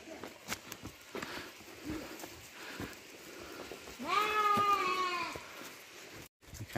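A sheep bleats once in a long, wavering cry, rising over a low background of rustling and footsteps as the flock is driven toward its pen in the hills.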